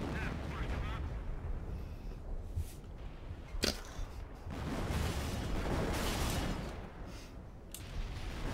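Mortar shells bursting in a World War II–style shooter against German targets, a sharp broadband blast near the middle and rumbling impacts around it, with players talking over the noisy, constant battle din.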